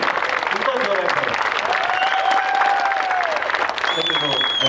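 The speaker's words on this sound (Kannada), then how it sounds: "ಪ್ರೀತಿಯ ಒಂದು ಚಪ್ಪಾಳೆಯನ್ನು ಜೋರಾಗಿ ಕೊಟ್ಟು" An audience at a music jam in Chikkamagaluru claps in a dense, steady roar of applause that lasts the whole stretch, with a few whistles or cheers rising above it.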